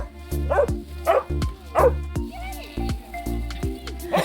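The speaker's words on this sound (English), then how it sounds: "he's just barking" A dog barks close by in several short, sharp bursts in quick succession, with brief yips between them.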